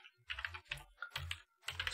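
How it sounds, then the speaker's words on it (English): Bursts of fast typing clatter on a computer keyboard, three or four short clusters of crisp keystrokes with brief pauses between them, close and fairly quiet. "I just want to type it in so you guys can see me typing it in here"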